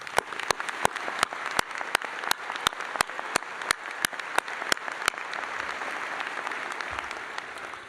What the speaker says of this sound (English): For that, you deserve a round of applause.